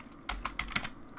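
Fast, light keystrokes on a computer keyboard, a brief burst of about a half-dozen clicks at close range with no voices.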